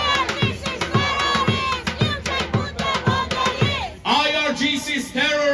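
A large crowd at an anti-Iranian government protest in London chants and shouts in rhythmic bursts, loud and close, with a lead voice rising over the roar before the crowd answers together.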